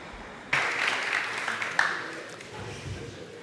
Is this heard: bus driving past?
no